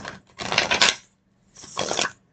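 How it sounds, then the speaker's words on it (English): Tarot cards being shuffled by hand, two close papery riffling bursts separated by a brief pause. "Let's get a good shuffle going."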